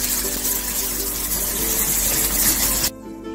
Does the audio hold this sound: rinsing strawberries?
yes